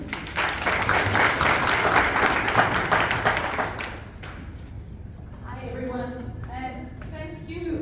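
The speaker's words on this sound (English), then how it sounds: "Please give a big round of applause to Prof. Maria, please." A lecture audience at a mental health and spirituality talk gives a speaker a round of applause, a dense burst of clapping for about four seconds that fades out as a voice begins talking.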